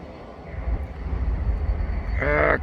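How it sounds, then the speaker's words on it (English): A low rumbling train rolls by in the distance in cold weather, with a brief harsh horn-like blast near the end over steady background noise. "Actually, this may be my train."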